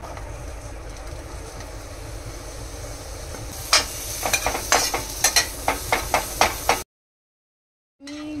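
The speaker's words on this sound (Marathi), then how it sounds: "थोडासा बटर टाकलाय, त्याच्यामध्ये हे सगळं मी फ्राय करून घेणार आहे दोन्ही पण" Vegetables fry in a little butter in a pan over a low flame, with a steady close sizzle, then a run of sharp spatula taps and scrapes before a sudden cut to silence.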